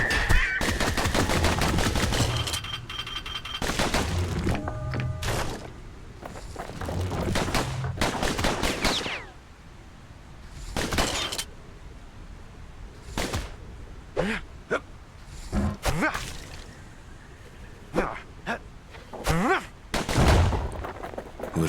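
Dueling pistols fire in the video game Bastion: loud, sharp shots in rapid clusters and scattered single cracks over about twenty seconds, set against a faint musical backdrop.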